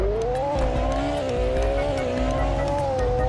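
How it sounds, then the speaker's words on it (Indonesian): A Ferrari SF90 supercar pulling away, its engine note rising and holding loud and close for several seconds, with a faint tire squeal. "Nah jadi itu dia suara dari mobil Ferrari SF90."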